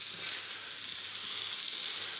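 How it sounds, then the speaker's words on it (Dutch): Ling fillet frying in a small amount of clarified butter in a pan gives a steady, close, dense sizzle with no pauses, heard alone without talk. "nu al gaan we de vis bakken"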